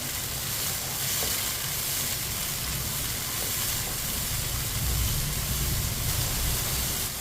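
Finely chopped tomatoes and green chillies fry in a pan and are stirred with a spoon, making a steady, close, even sizzle that continues without a break.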